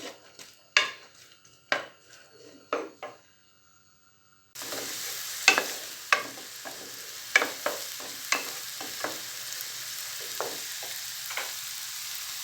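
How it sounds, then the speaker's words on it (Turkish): Onions sizzle steadily in a hot pan, with a spatula scraping and stirring in irregular clacks; a few knife taps come first before the frying starts. "Şimdi güzelce bir soğanımızı kavuralım"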